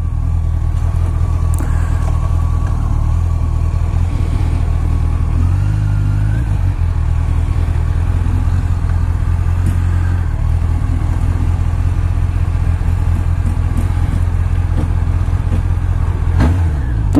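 A Honda CBR1100XX Super Blackbird, around 2000, rumbles along with a deep steady engine drone and wind roar, the revs rising and easing as it rides, heard up close with no speech.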